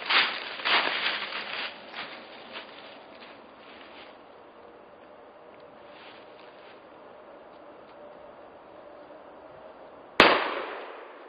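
A 12 gauge shotgun fires a wax slug in one sharp, loud blast near the end, after several seconds of faint outdoor ambience and a few dull knocks and rustles at the start.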